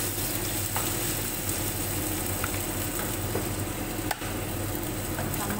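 Ingredients for pancit canton sauté in a pan with a loud, dense, continuous sizzle and occasional scraping stirs, close up and steady throughout.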